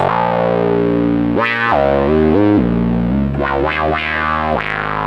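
A buzzy, distorted Arturia MS-20 software synthesizer plays loud, continuous notes with sweeping pitch bends and filter swells, heavy and close, with no talking.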